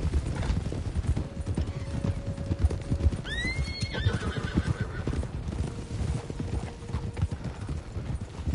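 Horse hooves clip-clop steadily across the prairie in Red Dead Redemption 2, with a horse neighing sharply in the middle, over a dense, loud ambient game background.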